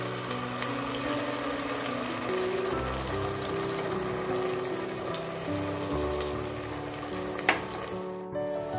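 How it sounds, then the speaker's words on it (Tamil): Onions and tomato paste frying in a pan for paneer biryani, a steady, close sizzle with faint scraping and stirring sounds, heard alone without talk. "தக்காளியோட பச்சை வாசனை போற வரைக்கும் நல்லா வதங்கட்டும்."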